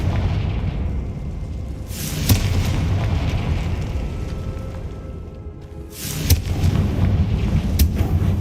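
A Confringo explosive spell blasts in Hogwarts Legacy, giving two loud booming bursts over a dense, continuous rumbling game backdrop with no talk.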